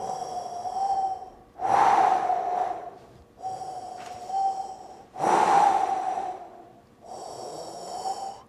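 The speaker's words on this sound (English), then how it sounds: "Now start breathing." Slow, deep breaths during a guided breathing exercise, with two loud, rough inhales alternating with quieter exhales over a faint steady tone, close and unhurried, without speech.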